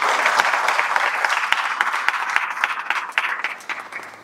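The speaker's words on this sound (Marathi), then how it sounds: "ताईसाठी एकदा जोरात टाळ्या" An audience claps loudly for a sister at a devotional satsang gathering, a dense burst of applause with sharp individual claps that thins and fades toward the end.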